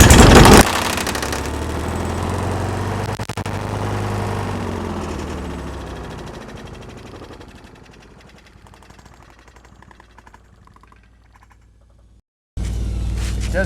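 A lawn mower engine with a broken recoil starter rope fires up on starter fluid, a loud close sputtering roar that fades steadily, cuts out briefly, then returns abruptly.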